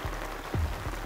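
Rain falls steadily on a large reservoir during a crucian carp fishing trip, making a dense hiss with a few soft low thumps as drops hit the surface nearby.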